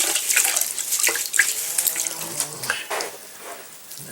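Running water splashing over stones being rinsed for a homemade stone birdbath, a steady close hiss of spray with scattered clicks and knocks.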